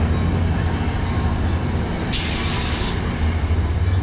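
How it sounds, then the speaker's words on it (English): A passenger train rumbles steadily through a New Jersey commuter station, loud and close, with a brief bright wheel squeal partway through and no talking. "the inbound trains coming."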